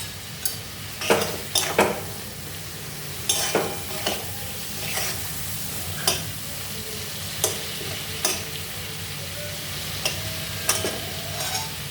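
Cauliflower curry fries with coriander-cumin powder under a low continuous sizzle, while a spoon scrapes and knocks against the pan in repeated bursts of stirring; no one speaks.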